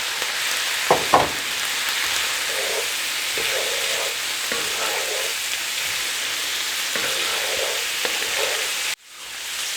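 Sausage frying in a pressure cooker pot, a steady loud sizzle with occasional scrapes and knocks of stirring throughout, cutting off abruptly near the end; no talking.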